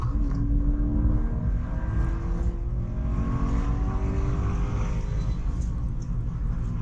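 A Toyota GT86 sports car engine drones steadily and loudly throughout, with a low rumble and pitch that rises slowly, revving up and sustaining.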